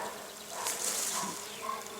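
Steady, loud insect buzzing fills the clip, a continuous drone like many bees humming nearby, with slight swells and no talking.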